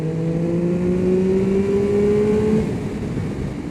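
Triumph Speed Triple 1200 RS sport motorcycle exhaust roaring inside a tunnel, a loud, close, rising engine note under acceleration that climbs steadily in pitch before easing off.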